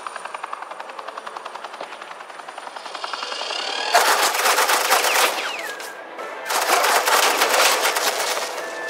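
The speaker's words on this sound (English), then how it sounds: "suppressing fire" Suppressing fire from a video game: rapid machine-gun bursts, loud and sustained, arriving in two long stretches separated by a brief pause, preceded by a steady rhythmic helicopter-like thrumming.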